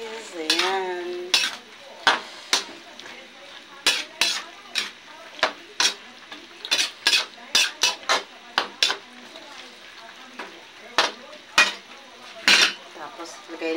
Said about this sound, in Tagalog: Haluan natin guys.